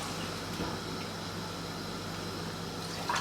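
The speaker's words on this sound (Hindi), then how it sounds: "1 कप इतना पानी डाल दिया मैंने।" Water poured into a pan of chicken dum masala curry during cooking, a steady soft liquid rush and trickle heard up close with no talking.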